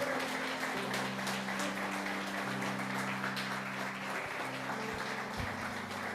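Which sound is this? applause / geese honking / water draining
applause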